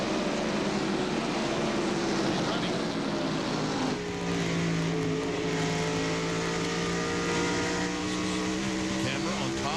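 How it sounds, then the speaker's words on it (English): NASCAR Winston Cup stock cars, including a Chevrolet chasing the leader, race at Bristol in the 1995 Goody's 500. Their engines drone loudly and continuously, with pitch shifts as cars pass, beneath a commentator's talk. "Camera on top of Earnhardt's Good Race Chevrolet as he's chasing down Dale Jarrett, the Mexico car."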